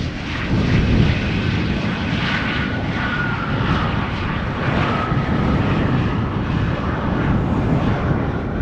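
An executive jet arriving from Chicago roars steadily on approach to Schiphol's Oostbaan runway, a loud sustained engine rumble and whine under a strong crosswind, with no voices.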